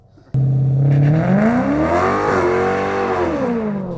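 A Ford Mustang GT on factory tyres launches hard on a track with wheel spin, its engine roaring loudly and rising steadily in pitch, then easing off as the driver backs off, close and continuous with no voices.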